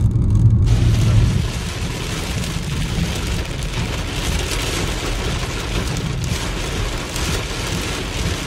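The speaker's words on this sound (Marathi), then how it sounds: "एवढा प्रचंड असा पाऊस इथं यायला चालू झालेला आहे" Heavy rain pounds a car driving into Tuljapur from Solapur, a loud, dense, continuous roar of drops on the vehicle with engine rumble underneath.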